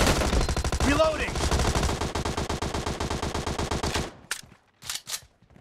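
Sustained automatic gunfire in a PUBG Arena team deathmatch, a loud, fast, even stream of shots for about four seconds, then a few scattered single shots and quiet.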